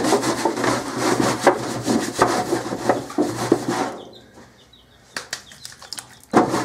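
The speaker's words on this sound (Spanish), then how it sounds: "Y seguimos boleando." Hands rounding bread dough into balls on a tray at home, a close, rhythmic rubbing and scraping that repeats steadily, then drops to quieter scattered taps and thumps.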